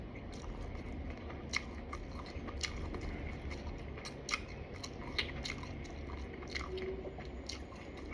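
Someone bites into and chews fried shrimp from a fish fry, close to the mic. Moist chewing is punctuated by a series of sharp, crisp crunches at irregular intervals.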